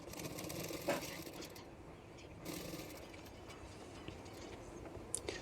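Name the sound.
sewing machine stitching a blouse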